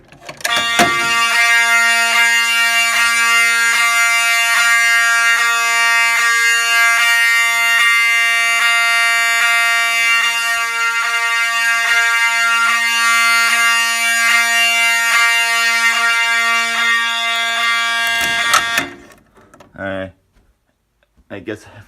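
A Wheelock 7002T fire alarm horn strobe sounds a loud, steady, close electronic horn for about eighteen seconds with a rapid ticking pulse, then cuts off; a voice follows briefly.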